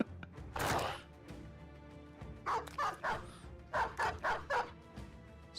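Barking dog in the tactical video game Battle Brothers: one sharp bark first, then a rapid series of loud, evenly spaced barks and yips close up over a faint game background.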